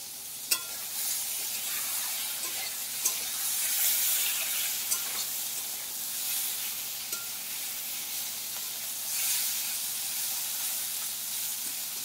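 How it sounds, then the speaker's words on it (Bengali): Ridge gourd fries in a pan with a steady, close hiss of sizzling oil, broken by a few sharp clicks from stirring and no voices. "আমি ঝিঙে ভাজা করছি।"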